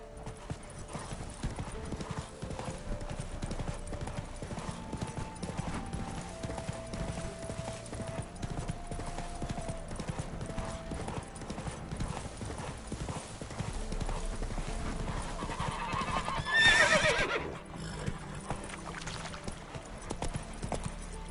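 Horse hooves gallop in The Witcher 3 video game, a quiet, steady clip-clop rhythm running throughout, with a brief louder swell near the end.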